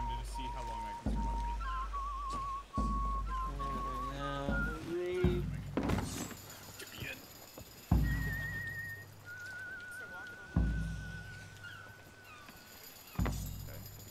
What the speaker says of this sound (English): I like the whistling underwater.